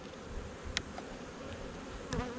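Honey bees buzz steadily at an open hive, a close, continuous insect drone with brief louder passes as individual bees fly near.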